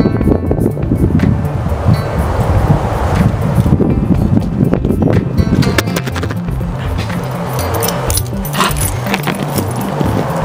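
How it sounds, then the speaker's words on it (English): Gusty outdoor wind buffets the microphone in loud, continuous rumbling bursts, with faint clattering and knocks mixed in. "A little bit windy out here."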